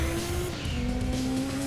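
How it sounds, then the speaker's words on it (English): In the Gran Turismo 2 video game, a race car brakes hard after flat-out acceleration, its tires letting out a sustained, loud squeal over the engine drone. "Let me floor it and then slam on the brakes"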